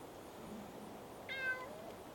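A single short meow from a cat rises faintly over a steady outdoor background during a family fishing trip, brief and somewhat distant.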